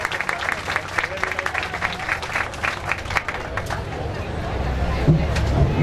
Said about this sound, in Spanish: Recibimos con un fuerte aplauso también para continuar.